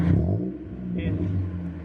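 A Mazda Miata's engine revs while driving, a loud low-pitched drone that dips briefly and then climbs again, heard from inside the car, with a faint short whir partway through.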